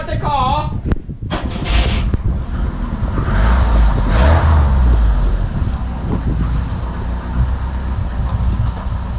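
A 1972 BMW 2002 with fueling issues drives with a low engine rumble, buried under heavy wind buffeting against the microphone. Voices are faintly audible.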